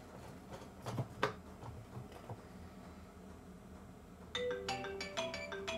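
Phone alarm ringing indoors on a workbench during electrical testing, quiet handling clatter first, then a bright repeating electronic ringtone pattern starting near the end and continuing.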